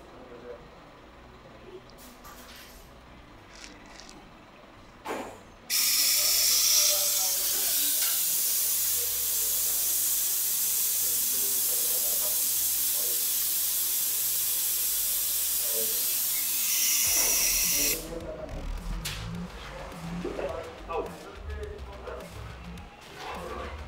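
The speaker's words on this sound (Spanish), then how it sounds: "Lo que la máquina hace es, al generar presión de aire, esta presión mediante una válvula que se encuentra aquí adentro nos genera una succión de vacío" An air-powered vacuum brake bleeder hisses loudly and steadily for about twelve seconds while draining brake fluid from a car's brake lines, with workshop clatter before and after and someone talking.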